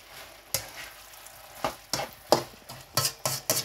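Aloo keema with added ginger fries in a pan, with a low sizzle under repeated scraping stirs that land in irregular bursts and grow more frequent toward the end.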